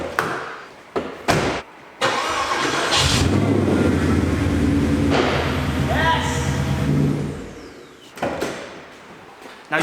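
A Porsche Cayenne's engine cranks in short bursts, then catches and runs loud and steady for several seconds, revving briefly before cutting off, with a few more short cranks afterward; a voice speaks over parts of it.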